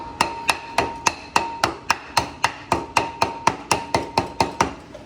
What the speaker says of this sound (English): I'm gonna grab a rubber hammer, kind of bang it in a little bit.